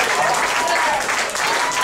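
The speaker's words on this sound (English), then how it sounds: "Oh, now we're applauding the legal tag." A wrestling match crowd claps in a steady, close, dense burst of applause that lasts the whole short moment, with a voice talking over it.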